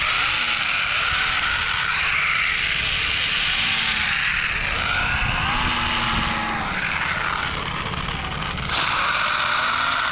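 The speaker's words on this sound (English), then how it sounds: "Let's spin them full RPM away from my face." The drivetrain of a Mojave Grom 223s RC car spins its wheels at full throttle off the ground, giving a loud, continuous whirring gear whine that wavers slightly in pitch throughout.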